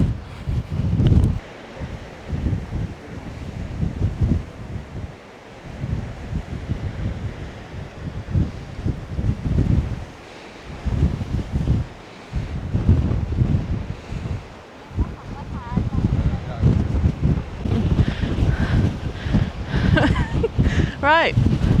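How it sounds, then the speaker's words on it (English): Strong coastal wind buffets the microphone at Durdle Door in Dorset, gusty roaring and rumbling throughout, with surf and a person's voice partly under the wind noise. "Just a bit breezy."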